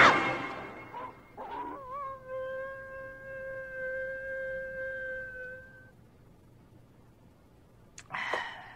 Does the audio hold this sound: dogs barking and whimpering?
yes